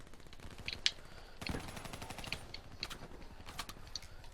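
The Razorback gun fires in rapid bursts of sharp, crackling shots in a video game match, the quiet gunfire coming in several short clusters with gaps between them.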